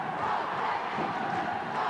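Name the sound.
ice hockey crowd cheering behind the Fife Flyers' goal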